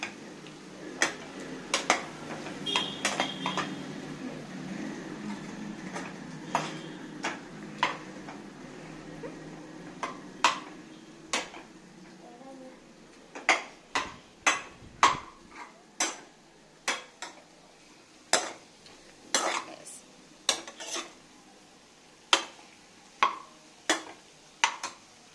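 Close, irregular metal clicks and taps of a spoon against a pan as potatoes are stirred and mixed for a methi aloo (potato and fenugreek) dish, repeating over a soft steady background hiss with no talking.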